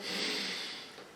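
One forceful glottal breath drawn in sharply through the mouth during a Krav Maga breathing drill, a close, breathy rush lasting about a second and fading at the end, with no talk over it.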